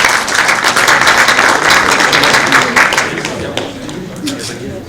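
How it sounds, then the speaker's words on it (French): An audience at a greentech hackathon event bursts into applause, a dense, loud clatter of clapping that holds for several seconds and then thins out toward the end. "On peut l'applaudir."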